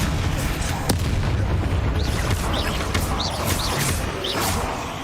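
Explosive Bombarda spell blasts from Hogwarts Legacy on PC, a dense run of booming impacts over continuous loud combat noise, with no talking.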